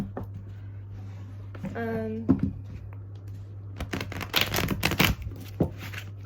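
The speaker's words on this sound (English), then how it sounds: "I haven't done my shuffle yet, so we'll do it on camera." Tarot cards are shuffled by hand in a quiet room, a rapid papery riffle and flutter building in the second half, with a low steady hum underneath and a brief tonal sound early on.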